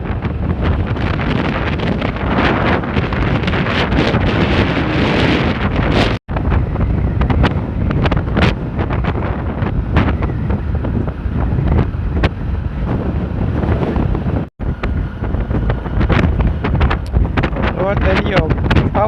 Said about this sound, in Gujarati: દરિયો પવન બહુ છે દોસ્તો